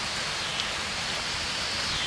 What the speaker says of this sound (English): since it's coming a downpour now